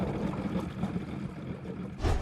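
A Samba racing jet boat, its engine driving the water impeller directly on a custom high-octane gasoline and nitrous mix, gives a faint, steady drone that swells into a short louder burst at the end.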